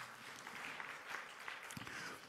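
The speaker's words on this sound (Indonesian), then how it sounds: "Tepuk tangan untuk Bali." An audience claps during a Bali governor's speech in honor of the province, a brief, moderately faint burst of scattered hands clapping in a large hall.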